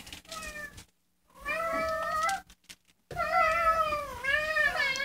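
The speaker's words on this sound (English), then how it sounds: "Masters, I say, at the synchronized meow." Several cats meow together at feeding time, a run of loud, close, drawn-out meows broken by short silent gaps, the last call long and wavering.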